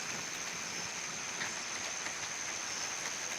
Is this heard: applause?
no